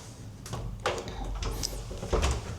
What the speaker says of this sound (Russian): И вот у нас дверь на кухню.